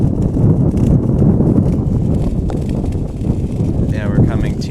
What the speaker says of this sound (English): Getting pretty extremely windy conditions.